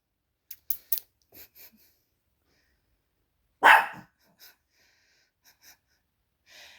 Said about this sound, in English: Sorry, it's Max barking